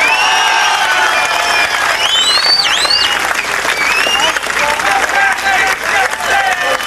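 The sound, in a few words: applause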